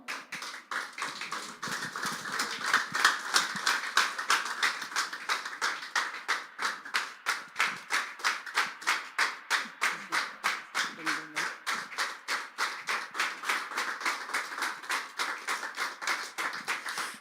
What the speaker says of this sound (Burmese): လက်ခုပ်တီးပြီးတော့ကြိုဆိုရအောင်